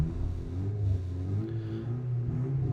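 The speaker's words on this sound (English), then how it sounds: "Somebody outside just cannot get their car loud enough, apparently." A car engine revs with a low, throaty rumble that rises and falls, heard somewhat muffled as from outdoors.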